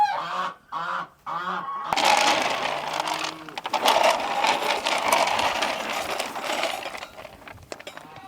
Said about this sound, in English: And those geese, they're definitely going.